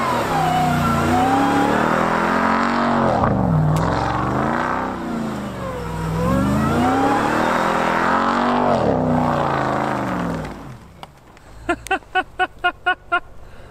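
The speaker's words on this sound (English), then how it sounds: "when you're in Baja mode and it's rear bias, can you do donuts? Well, Dad confirmed that for us." A Ram TRX pickup truck does donuts on a snowy off-road trail in rear-biased Baja mode, its engine revving hard in repeated rising and falling surges, then cutting back to a series of short rhythmic bursts at the end.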